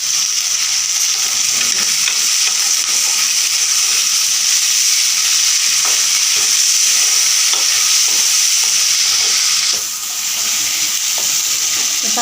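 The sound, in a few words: tomatoes sautéing with dried anchovy fish in pan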